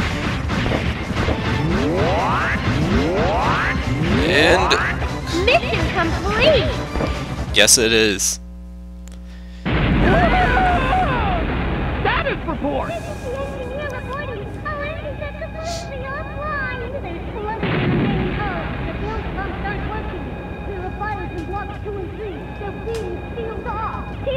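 Gunfire and explosions from the video game Megaman 64 during a lake boss battle, a dense run of blasts, impacts and rising sweeps, briefly dropping out before resuming with steady tones and music-like effects throughout.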